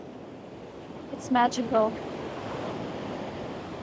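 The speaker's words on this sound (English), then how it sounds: "This beautiful, soft, golden sand and the sound of the waves crashing." Ocean waves crash onto a soft golden sandy beach on Nusa Penida island in Bali, a steady roaring wash of surf with wind noise, while someone speaks briefly over it.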